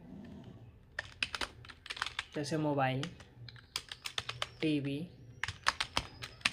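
Rapid clicking keystrokes on a computer keyboard, irregular bursts of close, crisp taps that continue around and between short stretches of someone speaking.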